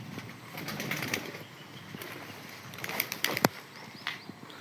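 Pigeons flap their wings in short, rustling bursts, moderately close, with a sharper flurry midway and quieter flutters after, no talk.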